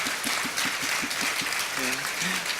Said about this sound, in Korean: 격려와 응원의 박수 부탁합니다.